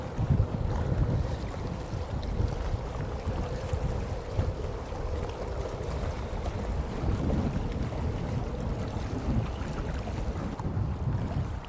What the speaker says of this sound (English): The wind's increasing all the time.